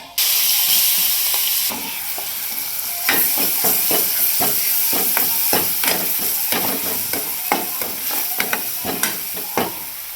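Masala paste fries and is stirred in hot oil in a kadai with spluttered mustard and cumin, a steady close sizzle broken by repeated sharp scraping strokes of the spoon against the pan, no voices.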